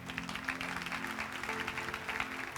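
A church congregation at a special worship service applauds, a steady, moderately distant clatter of clapping lasting the whole moment, with a faint voice over it.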